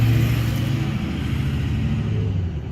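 Loud diesel trucks pass close by, a deep engine rumble that holds steady and fades slightly toward the end, with no talk.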